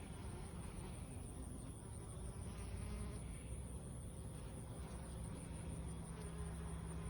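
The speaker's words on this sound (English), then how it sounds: "Look at all the bees." Steady buzzing of bees foraging on New England asters in autumn, a dense continuous hum of many insects at close range, with no one talking.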